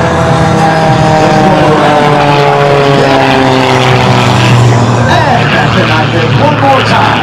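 MX2 aerobatic propeller airplane flying a knife edge pass at an air show at Joint Base Andrews, a loud continuous engine and propeller drone with shifting pitch, heard under a commentator speaking over a loudspeaker.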